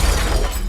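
A car crash sound effect in a dramatized account of a vehicle rolling over into a ditch: a short, loud, dense smash of crunching impact with a shattering edge, heard alone.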